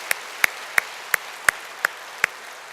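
A church congregation is meant, yet only seven sharp, evenly spaced single claps ring out over a quiet room, roughly one every third of a second, crisp and close.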